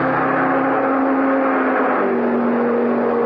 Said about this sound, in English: the people watching the test winced as the cars thundered by